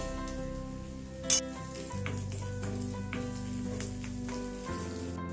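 Whole coriander seeds sauté with gentle sizzling in a hot pan, a low steady hum beneath and a brief sharp clink partway through; quiet and close.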